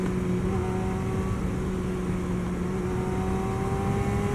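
A 1988 Yamaha FZR 1000 motorcycle engine runs at a steady, loud idle up close, with a continuous low drone and a faint rising whine throughout, no voices over it.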